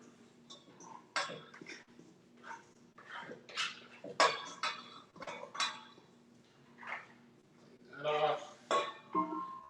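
A bowl scraper works oily focaccia dough on a clean kitchen counter, giving irregular scraping and clattering strokes in short bursts, close and fairly loud.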